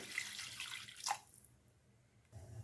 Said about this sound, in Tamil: கொஞ்சம் தண்ணி சேர்த்துக்குங்க